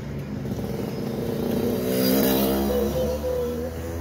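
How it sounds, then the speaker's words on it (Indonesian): A truck passing on a road near Takengon, a steady engine rumble that swells toward the middle and eases off as it goes by, fairly close and heard alone. "Mobil truk."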